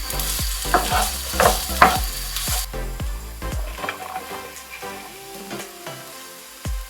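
Broccoli florets sautéing with onion in olive oil, loud sizzling stirred by a series of sharp scraping strokes in the first few seconds, then a softer steady fry with occasional utensil taps.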